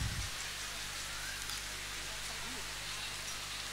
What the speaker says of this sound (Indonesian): Kenapa walaupun hujan turun,